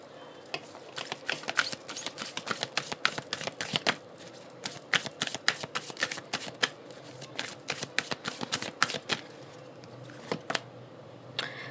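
Tarot cards being shuffled and drawn by hand, a long run of close, crisp riffling snaps and flicks in irregular bursts with short gaps, no talking.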